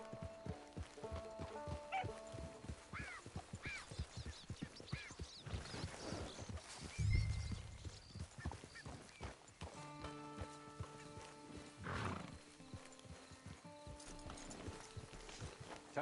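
Horse hooves clip-clopping at a walk in the video game Red Dead Redemption 2, steady footfalls over layered game music, with a brief louder burst partway through.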